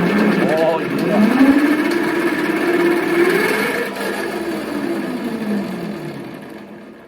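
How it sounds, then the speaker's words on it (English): A homemade vehicle drive system built with 3D-printed parts and a chain revs up, its motor whine climbing in pitch and then easing back down, loud and close, with people talking and exclaiming over it. "And now we're gonna give it a little gas."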